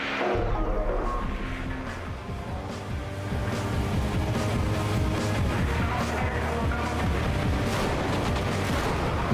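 Dense, continuous battle din of gunfire and heavy artillery booms from a video game, loud and sustained throughout, with a rumbling low end and rapid overlapping shots.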